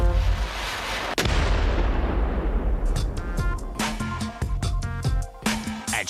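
Muzzle-loaded smoothbore cannon of the 19th century firing: a heavy booming blast with a long rumbling decay, followed by a rapid series of sharp cracking reports and echoing bursts, all loud and close.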